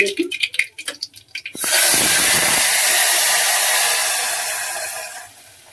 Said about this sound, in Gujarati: ઘી મૂકીને પાણી વઘારી દઈશું.